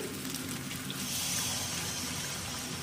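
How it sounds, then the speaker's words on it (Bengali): Cold water pours into a cooking pan of rohu fish curry, a continuous soft splashing rush that fills steadily without pause at moderate distance. "এবার আমি জল দিয়ে দেবো, ঠান্ডা জলই দিচ্ছি।"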